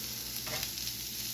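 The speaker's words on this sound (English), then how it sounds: "Get some sizzle sizzle going." Kielbasa, peppers and onions hit a hot Steelmade steel griddle with a steady, close, hissing sizzle that swells briefly as the food is poured on.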